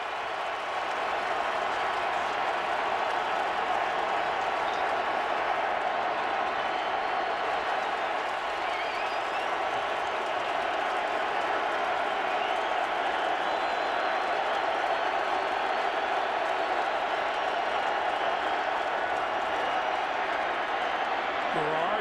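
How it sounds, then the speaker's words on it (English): An NFL stadium crowd at a 2010 Jaguars versus Colts game roars steadily on third and long, a dense, continuous wall of cheering and clapping that stays loud throughout. "Listen to the crowd."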